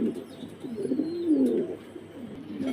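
Pigeons coo nearby in a loft of birds kept for sale, a low, rolling throaty call rising and falling through the middle, with faint background chirps.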